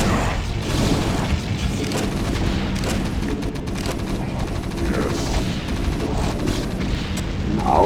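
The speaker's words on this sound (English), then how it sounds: "And this kind of explosion too." Repeated booms and crashing blasts from a StarCraft: Impending Doom mission fill the whole stretch, with rapid gunfire-like bursts layered over a constant low rumble, loud and close.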